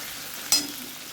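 Ginger, garlic and onion paste dropped into a hot pan gives a brief, sharp sizzle burst that quickly fades to a faint frying hiss.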